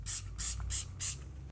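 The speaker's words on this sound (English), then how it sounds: "We spray it on." Epoxy cleaner sprayed from a trigger bottle onto kitchen splashback tiles: four short, bright hissing spritzes at an even rhythm, close and clear with no talk.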